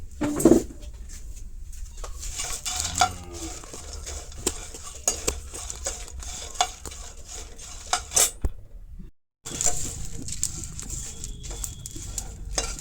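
Spices and nuts dry-roasted in a pan, with repeated close scraping and clattering of a utensil against metal and a brief pause, while a pigeon coos in the background.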